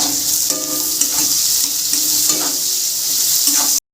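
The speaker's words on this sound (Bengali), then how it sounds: "এবার পেঁয়াজ দিয়ে দেবো।" Onions fry in hot oil with cumin, cinnamon, cloves, cardamom and dried red chillies, a dense, steady close-up sizzle with faint stirring scrapes that cuts off sharply at the end.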